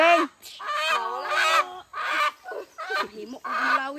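A native chicken clucks and squawks close by in a run of loud, drawn-out calls with short pauses between them, heard alone with no talking.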